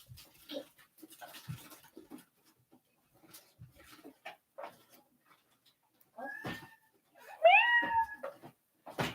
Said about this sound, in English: Now he's meowing super loud.